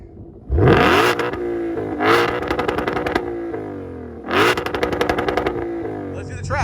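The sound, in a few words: 2020 Shelby GT500 exhaust revving in track mode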